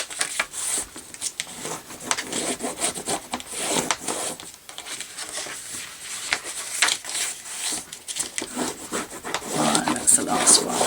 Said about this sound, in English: So again, burnishing all the time.